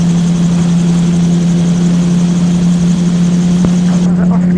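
A gyrocopter engine pulls under throttle in flight, a loud, constant droning hum with a whirring rotor texture that fills the whole clip, while voices talk over the intercom.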